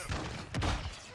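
Burst of gunfire in a Call of Duty multiplayer match, a short loud volley of shots with a heavy thump near the middle, up close over steady game noise.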